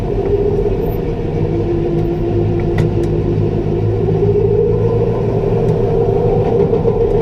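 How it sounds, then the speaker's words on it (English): New Holland T5.120 tractor running its PTO to drive a Teagle Tomahawk straw blower, a loud steady engine and machinery drone with a constant low rumble and no talk. "Get the PTO started."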